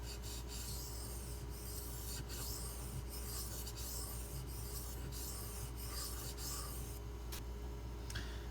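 Benchmade 9400 knife blade drawn in alternating passes across a Shapton Glass sharpening stone, giving a steady run of soft rasping strokes close by, with no voices.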